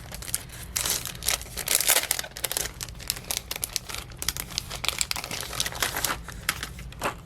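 A small 3D sticker from Hobby Lobby is handled for a planner page, giving close, steady crinkling and crackling of plastic sticker sheet with quick tearing and peeling bits throughout, no talking.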